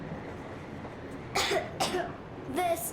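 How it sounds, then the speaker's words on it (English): A girl coughs three times in short, raspy bursts after a stretch of quiet background hiss, the coughs close and fairly loud, in the video game Metro Exodus. "I have this cough."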